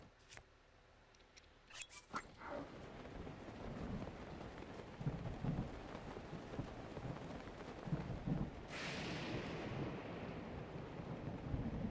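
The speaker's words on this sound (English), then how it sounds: "That's right. Thunderstorm." A thunderstorm in Zelda: Breath of the Wild brings steady rain with a deep thunder rumble that swells and lingers, after a few sharp clicks at the start, all without talking.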